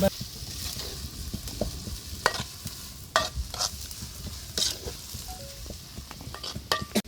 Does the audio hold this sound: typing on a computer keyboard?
no